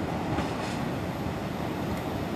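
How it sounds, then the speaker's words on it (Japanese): A diesel railcar and electric train running coupled on the Hakodate Main Line arrive at Otaru Station platform, rumbling steadily with low, continuous rolling noise, close by and fairly loud, with no voices over it. "4番線、列車が到着いたします。"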